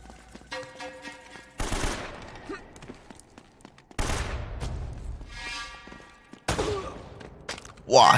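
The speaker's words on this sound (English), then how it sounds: "They're shooting at you too, you know." Enemy gunfire in Uncharted: Drake's Fortune comes in bursts of rapid automatic shots and single cracks, loud and close, separated by short gaps, with some game audio mixed in.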